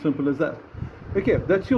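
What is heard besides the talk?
None of the usual background noises is heard.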